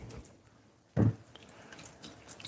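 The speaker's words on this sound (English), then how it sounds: "gonna put some water in" Water poured into saltfish fritter batter, a single wet splash and glug near the middle, followed by quieter drips and faint clinks in a mostly quiet kitchen.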